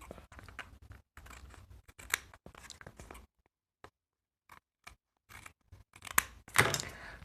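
Scissors trimming the edge of a paper craft project, a run of short crisp snips and rustles close at hand, broken by a quiet pause before a louder burst of cutting near the end.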